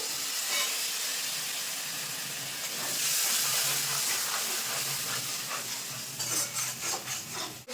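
Spice paste with Kashmiri chilli powder frying in a pan for a pangas fish curry after a splash of water, giving a steady broadband hiss and sizzle with occasional stirring scrapes near the end.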